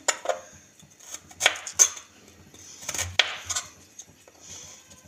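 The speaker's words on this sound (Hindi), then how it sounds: "आलू की ऐसे कटिंग कर लेंगे।" A knife cuts potatoes for chips on a kitchen board, giving irregular light knocks and clinks with scattered scraping, fairly close and quiet.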